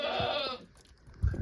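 Farm goats bleating in snow during a California snowstorm, a couple of short close calls near the end after a long steady tonal sound at the start.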